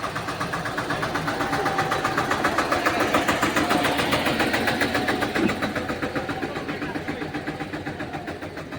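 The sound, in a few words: village panchayat tractor engine bringing soil for road repair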